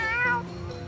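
A single short cat meow from the video game Tales of Xillia 2, close and clear, rising briefly then fading with no talk over it.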